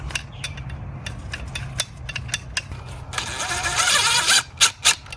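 Spring compressor tool being worked on BMW 340i H&R sport suspension springs, with repeated sharp ratcheting clicks and clacks close by, building into a denser burst of mechanical noise near the end.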